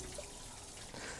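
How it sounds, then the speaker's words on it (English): Water running steadily through a built rock fissure high in a ravine, a continuous broadband rush and trickle, fairly faint and even, with no voices. "water flows through a spectacular fabricated Pullum fissure"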